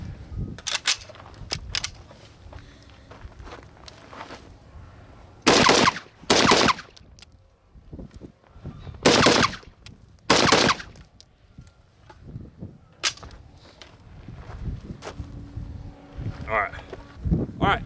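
FN rifle firing with a DSA polymer magazine outdoors, with loud sharp shots, some single and some in quick pairs, spread across the span amid wind noise and talking.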